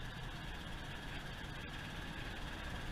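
Steady low rumble of a 1994 Ford Bronco engine with a small exhaust leak while driving, heard from inside the cab as a constant drone with road and wind noise and no clear gear change.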